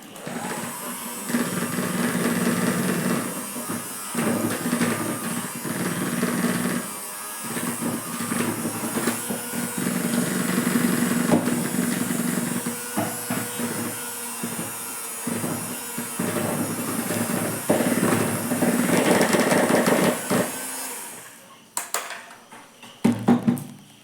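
Electric hand beater on its lowest speed whipping vancho cake batter with milk and sunflower oil, a steady close motor whir with clattering against the bowl that runs nearly continuously before cutting off near the end.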